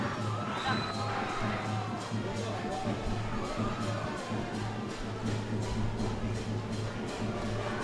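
S. Thomas' College supporters cheering at a schools rugby league match against Royal College: a steady, dense roar of crowd noise and babble, distant and continuous, with commentary voices over it.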